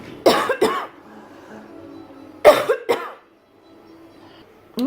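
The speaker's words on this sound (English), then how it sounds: "Oh my goodness, coughing fit." Two bursts of harsh coughing from a woman close to the mic, each a quick cluster of two or three coughs, separated by a quieter pause with low room hum.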